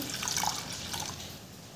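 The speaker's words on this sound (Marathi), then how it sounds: "यामध्ये आपल्याला डाळ भिजतपर्यंत पाणी घालून घ्यायचं आहे." Brief pour of water onto lentils in a bowl to soak them, with gurgling splashes and a few drips, close and moderately soft, fading to a faint trickle.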